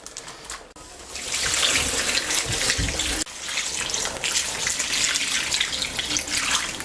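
Water poured steadily into a pot of Tunisian couscous broth with celery, a continuous loud splashing rush that briefly breaks off near the midpoint before resuming.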